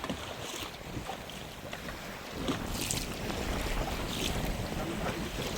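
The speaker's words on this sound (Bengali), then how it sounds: "ঝড় আর তুফান একসাথে" Strong storm wind roars across a river in the Sundarbans forest, blasting the microphone, with the rumble of a boat and waves underneath, growing louder partway through.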